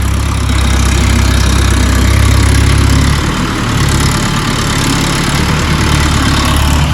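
A vehicle engine running loud and close, a constant heavy rumble that holds steady with a slight dip partway, with no talk over it.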